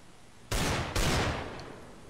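Two sharp, loud P250 pistol shots in a Minecraft version of CS:GO, fired about half a second apart, each a sudden burst with a short decaying tail and no talking.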